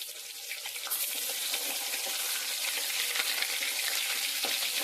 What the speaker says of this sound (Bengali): এবার কড়াইয়ের মধ্যে এক এক করে মাছগুলো দিয়ে দেব।